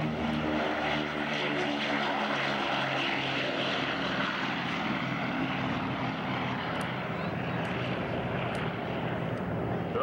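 A Gee Bee racer propeller airplane drones steadily throughout at an airshow, its engine harmonics wavering slightly as it passes, loud and continuous with no talking.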